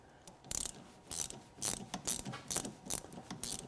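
A socket and 19 mm wrench turn the top nut on a Bilstein shock absorber, giving a run of quick metallic ratcheting clicks in short bursts with brief pauses between them, close and fairly quiet.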